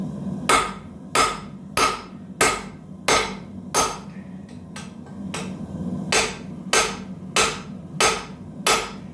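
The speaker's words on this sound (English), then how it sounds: "This time I will use the flat of the hammer on purpose." A hammer's flat face strikes metal to straighten a bent piece, about a dozen loud, close ringing blows in a steady rhythm with one short pause midway.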